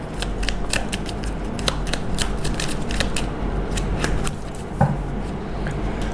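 Tarot cards being shuffled by hand, a rapid run of crisp riffling snaps and slaps repeating steadily, close and fairly loud, with no talk over it.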